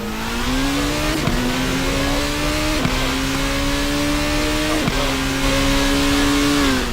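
A race car engine in a Formula Hololive racing video game at the Motegi GP circuit, a loud continuous whine rising in pitch through each gear, with sharp drops at three upshifts.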